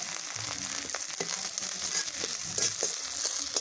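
Onions sautéing in a pan for a village-style blood poriyal, a steady moderate sizzle with intermittent stirring scrapes and clicks, close and continuous without speech.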